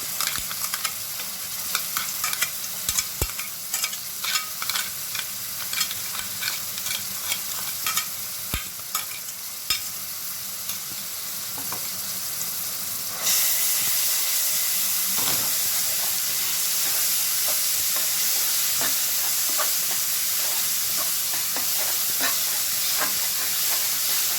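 Ground onion paste hits roasted mutton masala in a pan for a spicy village-style mutton curry, giving a steady sizzle broken by stirring scrapes and taps, then a louder, fuller hiss from about halfway on, with no talking.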